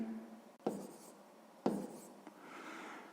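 A pen writes down a sixth-grade math solution, giving quiet, close scratching with two distinct stroke bursts and a soft trailing scrawl over low room hiss.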